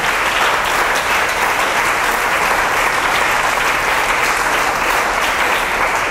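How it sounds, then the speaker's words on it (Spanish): A church congregation at an evangelical convention in Planeta Rica, Colombia, applauding loudly and continuously, a thick wash of clapping that holds steady for several seconds. "Un aplauso al Señor."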